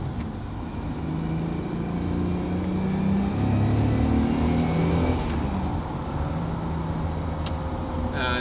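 Heavy traffic on the M1 motorway heard from inside a moving Jaguar XJ40, a steady loud road roar and engine drone with a vehicle swelling past midway.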